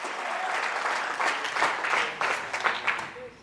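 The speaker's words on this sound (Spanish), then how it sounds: "Fuerte ese aplauso a nuestro Dios" A church congregation claps in a burst of applause that swells and stays dense for a few seconds and then eases off slightly, close and loud and filling the room.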